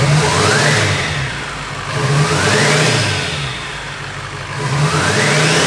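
Duramax diesel engine with a new big turbo, swapped into a K20 truck, revs up and settles back in three loud, close swells, the turbo whistle rising and falling over the engine's rumble.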